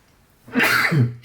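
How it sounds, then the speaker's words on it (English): A single close, sharp human sneeze bursts out abruptly and ends within a second, with no talk around it. "I've been sneezing all day."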